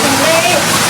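A village waterfall pours in a dense, steady roar, close and loud, with voices mixed in over the splashing water.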